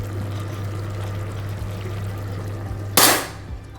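Leafy greens are dropped into a cooking curry with one sudden loud sizzling splash near the end, after a steady low hum of the stove and kitchen, with no talk.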